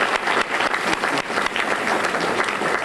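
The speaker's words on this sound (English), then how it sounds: "So let's give them a round of applause as well." Conference attendees at a Clearing the Air in Communities of Color event applaud the Arkansas Department of Health, a sustained, dense round of clapping from a sizeable crowd that holds steady from start to finish.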